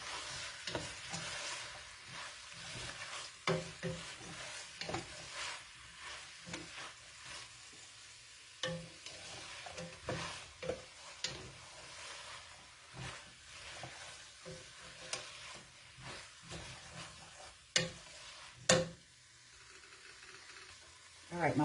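Vegetables for pasta primavera stir-fry in a pan, giving a steady sizzle with scraping and tossing of a utensil against the pan, plus several louder clatters near the end.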